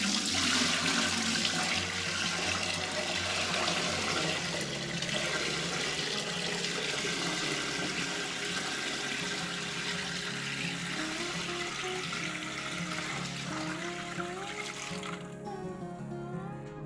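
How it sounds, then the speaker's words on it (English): Corn cob stock pours from a pot through a strainer into another pot in a kitchen, a continuous close rush of liquid that runs steadily before tapering at the end. "now I'm going to pour it through a strainer into a pot"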